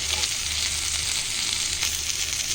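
Mutton chops sizzle loudly on a hot tawa as the pieces are flipped, a close, continuous frying hiss with brief crackling bursts, no voices present.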